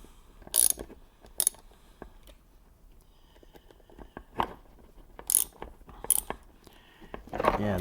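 Gears inside a pellet stove auger motor from a US Stove American Harvest 6039 corn or pellet stove click and ratchet as they are turned by hand, producing faint, sparse mechanical clicks at close range.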